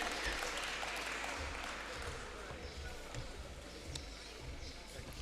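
Audience at a literature festival applauds and cheers for a moderator, a dense, steady wash of clapping that fills the room for several seconds.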